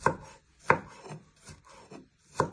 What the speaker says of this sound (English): Turn it around and chop it into little pieces.